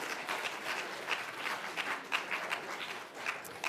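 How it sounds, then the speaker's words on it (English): Audience applause for the judges at a students' quiz bowl awards ceremony, a fairly faint, continuous patter of clapping hands with a few sharper individual claps, and no talking. "You guys can give them a round of applause."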